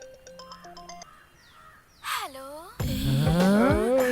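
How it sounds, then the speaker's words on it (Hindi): Mobile phone ringtone in a scene from a Hindi-dubbed South Indian action film: a soft electronic melody of quick stepped beeps for about a second, then louder swooping effects and music take over. "किसी का तो फोन आ रहा है।"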